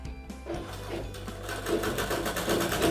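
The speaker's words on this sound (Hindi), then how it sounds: "यहाँ पर हमें किनारे किनारे सिलाई लगा देना है" A sewing machine runs steadily as it stitches along the edge of a lace blouse, a close, continuous mechanical whir that carries on alone throughout.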